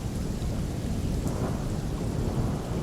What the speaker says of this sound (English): That was a lot of rain in a very short amount of time.